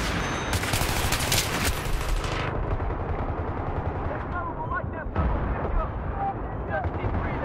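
Grenade blasts in a 32-versus-32 online shooter match on the Bazaar map: a loud, dense burst of explosive booms and gunfire in the first two seconds, then sustained battle rumble with scattered distant shots and chirps.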